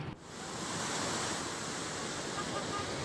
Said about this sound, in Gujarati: શેત્રુંજી નદી બે કાંઠે વહી રહી છે